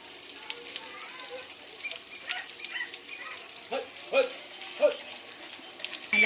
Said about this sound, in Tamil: பாருங்கள் மழை பாருங்கள் நல்லா மழை தான் பெஞ்சிட்டு இருக்கு